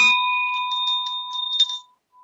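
A healing bell of the kind used in sound therapy rings once with a clear, sustained metallic tone whose bright overtones shimmer and slowly fade to silence.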